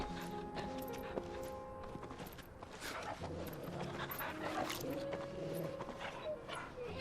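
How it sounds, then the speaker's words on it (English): Torgal, a dog in the video game Final Fantasy XVI, pants and moves with soft pattering steps over a steady game soundtrack, with a voice speaking over it. "Did Joshua know that he's a lightning dog"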